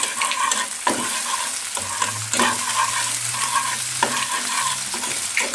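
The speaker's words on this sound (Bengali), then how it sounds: "আর এদিকে আমরা ডিমটাকে এভাবে ঝুরি করে নেব" Egg scrambled and stirred in a hot pan for fried rice, a continuous sizzle broken by a few sharp scrapes and knocks of the spatula, close and without talk.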